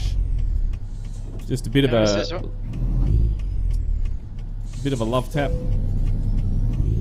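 A Kenworth W900 truck in the video game American Truck Simulator rumbles at a steady low drone throughout, with a brief hiss or thud midway, while someone talks over it.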